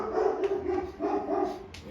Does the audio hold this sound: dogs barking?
yes